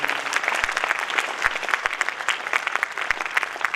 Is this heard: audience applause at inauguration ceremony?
yes